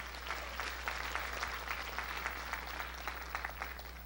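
A church congregation at a Sunday evening service claps their hands in a continuous, moderately distant patter over a low steady hum, with no voices standing out.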